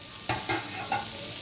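Banana flower curry with potato frying in a little oil, three crisp spatula scrapes against the pan over a steady low sizzle, close up with no voices.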